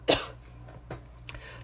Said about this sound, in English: I get these lingering coughs after colds and they're no fun.